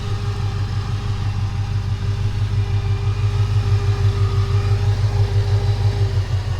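A 2000 Saleen car idles steadily after starting, a deep, even engine rumble heard up close and continuous, with no talk over it.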